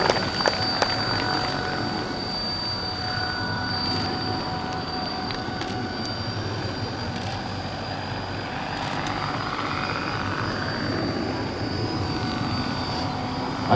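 A large Labrador CH-113 model helicopter drones steadily overhead at a heli show with a continuous whining, buzzing engine and rotor noise, fairly loud and constant throughout, with faint crowd sounds.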